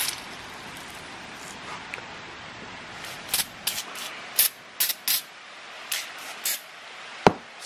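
Degreaser sprays onto the brake calipers of a MKIV Toyota Supra in short hissing bursts over a soft background hiss, close by and fairly quiet, with no speech.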